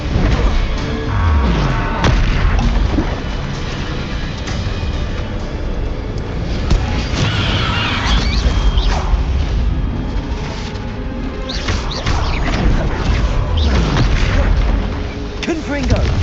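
Hogwarts Legacy spellcasting in the game, with Confringo, Bombarda and Incendio blasts in a steady stream of loud booms and bursts over busy battle noise, while a voice talks over the action.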